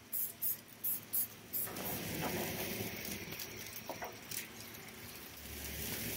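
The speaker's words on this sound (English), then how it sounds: "I'm just going to give a quick spray to the bottom" Cooking spray hisses onto grilled salmon in a few quick short bursts, then a longer spray, close and over a soft sizzle from the grill.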